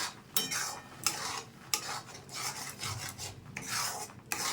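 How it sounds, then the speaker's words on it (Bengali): Chhana and sugar stirred nonstop in a pan with a spoon, giving close, repeated rasping scrapes in an uneven rhythm, with a few sharper strokes against the metal. "এটা অনবরত নাড়তে হবে, নাহলে তলায় ধরে যাবে।"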